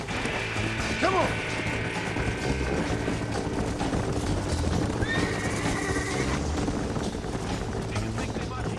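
A horse whinnies in the Western video game Red Dead Redemption, with clip-clopping hooves, mechanical clanking and game music layered underneath and a voice briefly calling out.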